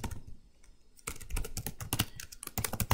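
Close, quick keystrokes on a computer keyboard as a name is typed, sparse at first, then a dense rapid burst of clicks with no voices.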